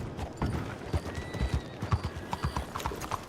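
Horse hooves clip-clopping in a roleplay video game, a quick uneven series of close hoofbeats with a faint whinny-like tone.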